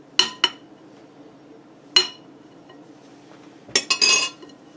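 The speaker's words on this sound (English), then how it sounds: "I like to scrape the spoon off pretty good" A metal spoon scraped and tapped against a bowl while making homemade pizza dough, a few sharp clinks spaced apart, then a quick cluster of scraping clatter near the end, close and clear with no talk.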